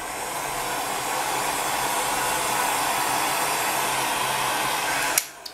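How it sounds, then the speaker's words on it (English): Heat gun on its hottest setting blowing over liquid polymer clay, a steady loud airy roar that runs without a break, then is switched off with a click near the end. "turn your heat gun onto your hottest setting and cure your liquid clay"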